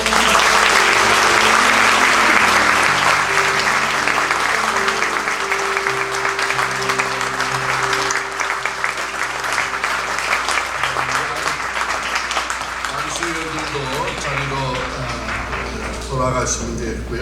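A congregation at a Korean church ordination thanksgiving service applauds in a long, steady round, with sustained background tones underneath, fading slightly toward the end.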